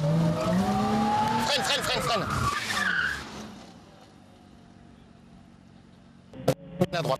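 A car drifting, with engine revving and tires squealing in rising and falling whines for about three seconds, then quieter rolling noise and a few sharp bursts at the end, with voices talking over it.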